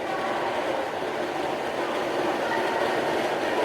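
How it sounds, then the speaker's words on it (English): A Disney EPCOT monorail passes close by near the Imagination Pavilion, a steady loud rushing rumble that holds evenly through the short stretch without breaks or talk. "Monorail coming around right next to the Magic Eye Theater"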